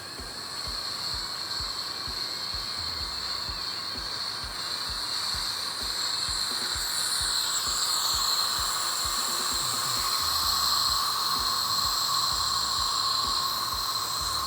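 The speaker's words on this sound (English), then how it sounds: "We're just gonna crank this boil." Beer wort cranked to a vigorous boil, releasing a loud, continuous hiss of steam that holds steady and swells slightly toward the end.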